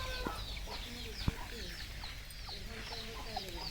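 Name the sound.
chickens clucking on a farm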